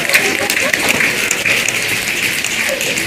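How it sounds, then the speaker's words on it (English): A crowd of youth climate activists packed into a Capitol hallway snapping their fingers, a dense, steady crackle of many snaps that fills the space at even loudness throughout. "Can you snap a little louder for me?"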